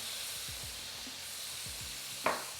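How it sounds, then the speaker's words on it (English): Wine and butter hitting a hot pan while deglazing after lamb chops, a soft steady sizzle with faint clinks, then a brief sharper burst of spatter near the end, close and fairly quiet. "We're going in with about 1/4 cup of wine. Deglaze the bottom. Add your butter."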